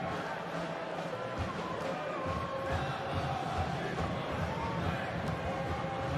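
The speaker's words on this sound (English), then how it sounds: "You can hear what the crowd think of that." A football stadium crowd at an Asian U23 championship match between Thailand and Australia roars and murmurs in a steady, broad wash of noise, with a commentator speaking over it.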